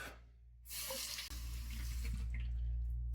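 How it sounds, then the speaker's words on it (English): Water gushes from a bathroom tap into the sink for a shaving rinse, a close, steady splashing hiss that starts abruptly and keeps running, with no talking. "let me get my final rinse"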